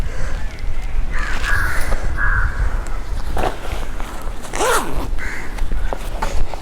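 A zipper on the hydration bladder pocket of a BBG Ladakh riding jacket runs in a few quick, rasping pulls, close and loud, with no talking.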